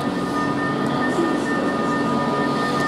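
A Virgin Trains Class 390 pulls away from a station on a service to Edinburgh Waverley, a steady rumble with a faint electric whine, moderately loud and continuous.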